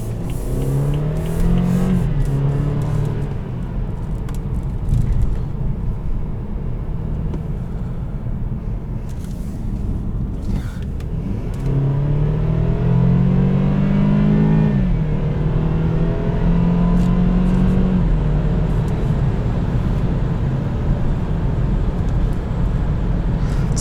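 A 2014 BMW 320xi in sport mode accelerates hard, its engine note climbing in pitch, dropping at a shift and climbing again as a steady close rumble that fills the whole stretch, with no talk over it.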